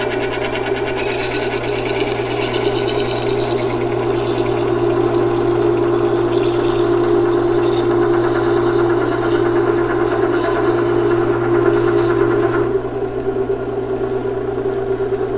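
A knife-thinning grinding machine runs loud and steady with a constant motor hum and an abrasive grinding hiss, continuing without a break and easing slightly near the end.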